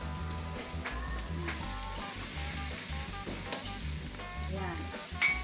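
Rice and saba banana being stirred in a frying pan over steady sizzling, with repeated scraping strokes of a spatula across the pan throughout.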